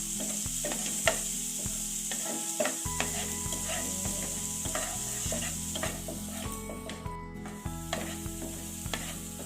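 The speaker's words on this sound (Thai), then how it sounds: "เราผัดเนยกับกระเทียมให้มันเริ่มหอมนะคะ" Butter and garlic sizzle in a pan while being stirred, a steady frying hiss with light scraping clicks, close and continuous, over a faint musical backing.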